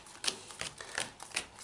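Cards from a 40-card Yu-Gi-Oh deck being shuffled quickly, giving a series of crisp riffling snaps and flutters at a steady rhythm, close and fairly quiet with no talking.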